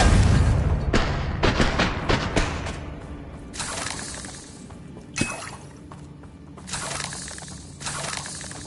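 A Confringo blasting spell detonates in a Hogwarts Legacy battle, sharp booming cracks bursting close and loud in a quick cluster, then scattered fainter blasts and crackling debris trailing off amid combat noise.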